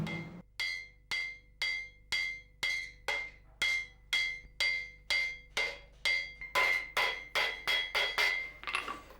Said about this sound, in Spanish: Vamos a picar la soldadura para que nos quede fuerte y llana al mismo tiempo la pieza